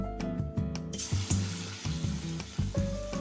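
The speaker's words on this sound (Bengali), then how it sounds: "এবার এই মাংসটা যে মাখিয়ে রেখে দিলাম সেইটা এবার একটা একটা করে ভেজে নেব" Marinated chicken pieces for chicken 65 frying in hot white oil in a kadai, a close bubbling sizzle punctuated by clunking and stirring knocks from the pan.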